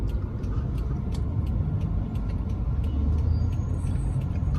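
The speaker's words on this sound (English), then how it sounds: "Manchester Avenue traffic." Street traffic on Manchester Avenue, a continuous road rumble of passing cars and buses, with light ticking clicks scattered over the steady wash.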